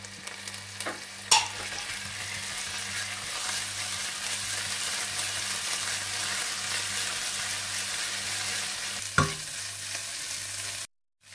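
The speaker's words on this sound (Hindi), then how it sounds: "थोड़ा सा भूनने के बाद आप इसमें पिसा हुआ अदरक लहसुन भी डाल दें और इसे भी थोड़ा सा भून लें।" Ginger garlic paste frying in a hot pan while cooking chicken 65, giving a steady close sizzle throughout, with two brief sharper clatters of stirring and no talking.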